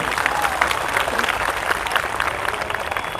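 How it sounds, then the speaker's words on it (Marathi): A crowd at a protest gathering in Nashik claps loudly and steadily for a young trainee, a dense continuous patter of hands held close throughout. "युवराज राठोड साठी आपण एकदा टाळ्या वाजून प्रोत्साहन द्या"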